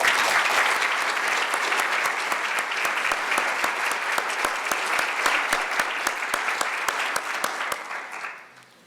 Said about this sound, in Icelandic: Og mér langar til þess að biðja salinn að klappa þessum fyrirtækjum lof í lófa.